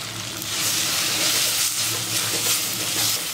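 Onion, tomato and chili powder sauté in a pan, giving a steady, dense hissing sizzle that holds evenly throughout at close range, with no voices.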